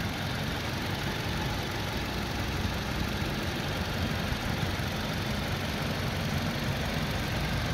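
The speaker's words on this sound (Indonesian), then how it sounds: "Suara mesinnya juga garing" A 2008 Toyota Innova G Euro manual idles nearby, a steady dense engine hum with a faint rapid ticking, even and unbroken throughout.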